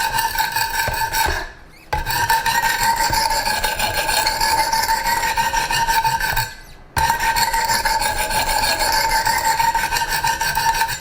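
Rhythmic rasping strokes of a Strider SMF knife edge drawn across new Wicked Edge sharpening stones at the tip, close and loud, continuous scraping with two brief pauses between passes.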